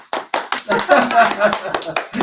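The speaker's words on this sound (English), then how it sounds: "You go applaud now, please." Scattered clapping from a small live studio audience, a handful of hands tapping in an uneven rhythm, close by and mixed with talk and voices.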